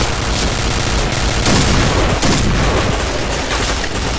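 Sustained, loud gunfire from the Point Blank online shooter, with dense rapid bursts and booms running continuously with no pauses and no talk.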